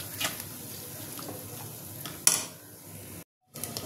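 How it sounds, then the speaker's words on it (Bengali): Spice masala for paneer masala cooks in a pan, with a quiet sizzle under scraping spoon strokes, one sharper metallic clack, then a brief silence before the frying resumes. "এটাকে ভালো করে কষবো"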